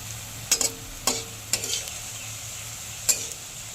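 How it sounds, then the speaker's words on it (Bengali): Coconut and poppy-seed fritters sizzle steadily in hot oil while a utensil knocks and scrapes the pan in four sharp, separate strikes as they are turned. "এভাবে করে উল্টে পাল্টে দিয়ে সব বড়াগুলো ভেজে নেব।"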